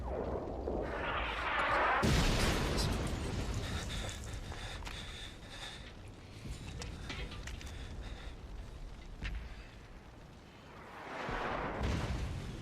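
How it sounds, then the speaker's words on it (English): Booming explosions and rumbling blasts come and go in a loud, busy game soundscape, with a sharp burst near the start and another swelling later. "You should wait till there's an explosion."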